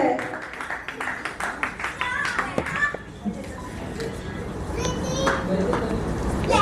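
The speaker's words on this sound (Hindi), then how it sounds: "एक बार जोरदार तालियां" Loud applause at a family retirement ceremony, with brisk clapping for the first few seconds, then fading into chatter, children's voices and room noise as people talk.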